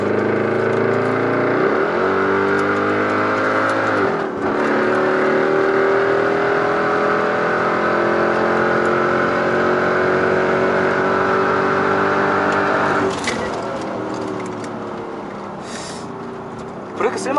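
A supercharged V8 Mercedes E55 AMG pulls hard on a race track in sport mode at full throttle, its loud, steady engine drone climbing in pitch with brief dips at gear changes.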